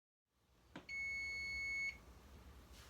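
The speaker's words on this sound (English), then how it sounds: "That's the sign of the alarm." An oven timer on a kitchen oven sounds one loud, steady electronic beep lasting about a second, signalling that a batch of oatmeal raisin cookies has finished baking. Nobody speaks over it.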